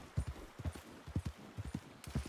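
Horse hooves clip-clop in Red Dead Redemption 2, with a steady walking rhythm of low thuds lasting about two seconds. The hoofbeats are close and moderately loud, and no one speaks.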